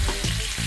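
Butter sizzles loudly in a hot pan alongside steaks, a close, steady crackling fry with a faint stirring scrape, with no voices.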